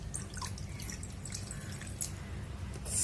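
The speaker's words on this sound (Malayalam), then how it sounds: "ഫസ്റ്റ് വെള്ളം ആഡ് ചെയ്യണം" Water is added to wheat flour for chapati dough, heard as faint, close drips and light splashes, quiet and intermittent.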